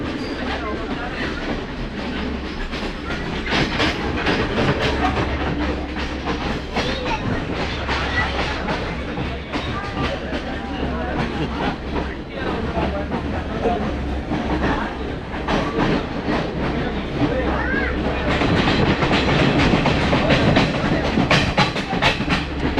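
A train on Sri Lanka's famous scenic railway rumbles steadily with a low drone and rhythmic clickety-clack of wheels, heard from inside the carriage with faint voices under the noise.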